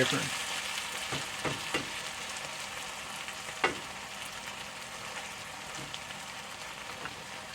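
Okra frying in a crowded pan on high heat makes a constant, dense hiss, close and fairly quiet, with a few sharper crackles and pops standing out early on.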